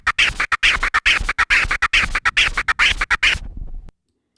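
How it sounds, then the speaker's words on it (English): Quick forward-backward vinyl scratches played at double speed in a fast, even rhythm, dense chopped strokes that stop abruptly, leaving a brief quiet tail. "when you play now this performance twice as fast, it sounds like this"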